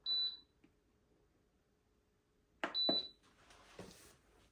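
Electric cooking appliance being started on a long slow-cook setting for a tanjia marrakchi, giving short high electronic beeps, one at the start and a double beep later, among soft handling clicks nearby.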